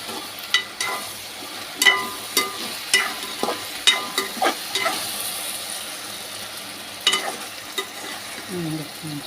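Okra curry frying in a pan for an Andhra-style okra and tomato dish, a spoon stirring with repeated scraping knocks over a steady background sizzle, close by with no talking.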